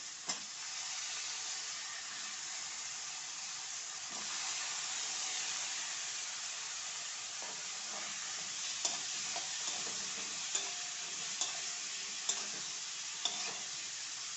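Peeled, chopped red pumpkin fries in a pan for a Maharashtrian bhaji, giving a steady close sizzle throughout, with a spoon scraping and stirring in sharp, evenly spaced knocks toward the end.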